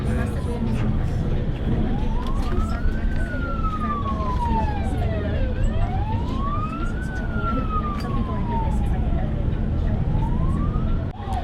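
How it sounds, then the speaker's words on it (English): Police sirens wail in slow rising and falling sweeps during a motorway escort, heard from inside a moving car over a constant road rumble, with voices talking softly underneath. "the police put the sirens on"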